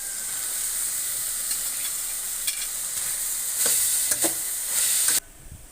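Bell peppers and red chilies stir-frying with carrots in a pan for chicken vegetable macaroni, a constant close sizzle with a few utensil clinks, swelling louder near the end before dropping off abruptly.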